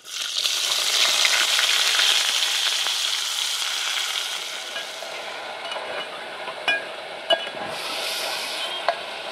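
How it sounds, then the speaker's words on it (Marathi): Cumin, star anise, cloves and cinnamon fry with finely chopped onion in hot oil, a loud, dense sizzle that starts abruptly and slowly settles, with a few sharp clinks of a spoon on the pan near the end, no voices. "चांगलं तळून घेते ते आणि कांदा टाकून घेते बारीक चिरलेला"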